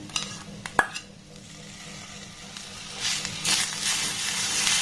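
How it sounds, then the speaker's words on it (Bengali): Sugarcane jaggery melting in a pan on a low gas flame while being stirred. A few metal clinks of the spoon come early, then a soft, rising sizzle and scraping. "গ্যাসের ফ্লেমটাকে একদম লো রেখে এবার এটাকে একটু ভালোভাবে নাড়াতাড়া করে নেব অটোমেটিক দেখবেন এই গুড়টা কিন্তু মেল্ট হয়ে যাবে"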